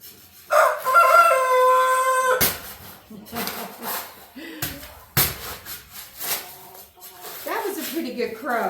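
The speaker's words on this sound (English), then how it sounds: "That was a pretty good crow." A rooster at a backyard chicken coop gives one long, loud crow up close, followed by hens clucking and a person talking nearby.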